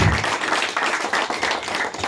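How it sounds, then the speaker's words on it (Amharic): A congregation at a faith sermon keeps up close, lively applause. The many hands clap in a continuous, evenly loud wash from start to finish, with no gaps. "በስነ ስርዓት አጨብጭቡ።"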